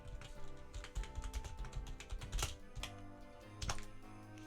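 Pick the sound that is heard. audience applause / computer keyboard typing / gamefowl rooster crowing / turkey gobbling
computer keyboard typing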